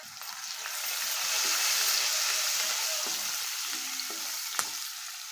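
Sliced onions with turmeric sizzle steadily in a hot pan, a dense close hiss with a few soft scraping stirs and a light tap partway through.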